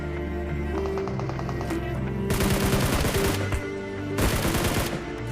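Heavy gunfire rattles through a mobile battle royale game at a military base, with scattered shots followed by two loud, dense bursts of automatic fire over a steady game soundtrack hum.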